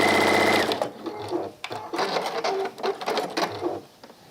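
Sewing machine stitching a contrast fabric caddy, a fast buzzing whir of the needle running in bursts of varying length, close and loud, with brief pauses between runs.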